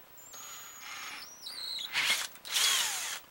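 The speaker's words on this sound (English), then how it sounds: "We're going to drill out the holes." A power drill whines and revs in short bursts, then bites into a wooden crossbow stock with a louder grinding roar while drilling holes, close by, with brief pauses between runs.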